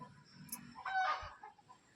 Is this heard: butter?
no